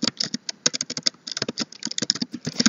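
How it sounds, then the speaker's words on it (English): Rapid keyboard typing with clustered clicks and short pauses, close and clear, no voices. "I'm going to go ahead and type in that information"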